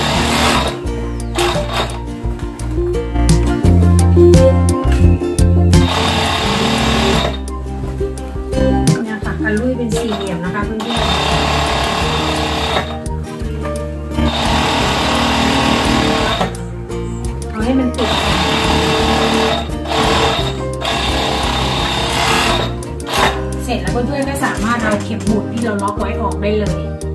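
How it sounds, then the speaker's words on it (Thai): Sewing machine stitching a fabric bag, its motor running in loud bursts with brief pauses between seams, mixed with background music and occasional talk. "ทีนี้เราก็จะไปดูขั้นตอนเย็บกัน"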